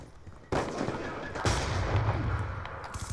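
Rapid gunfire from the Peacekeeper weapon in Call of Duty: Black Ops 2 multiplayer, sounding as loud, close bursts of automatic shots that keep going after a sudden start.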